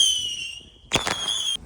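A 4th of July firework fizzes with a high whistling tone, then bursts with a sharp crackling pop and a short burst of sizzling whistles before cutting off, close and fairly loud.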